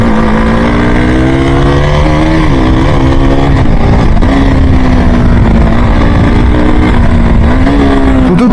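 KTM Duke 200 motorcycle engine with a new throttle body revs loudly and steadily up close, its pitch rising and dipping through several throttle blips.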